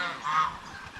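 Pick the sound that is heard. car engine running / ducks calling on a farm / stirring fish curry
ducks calling on a farm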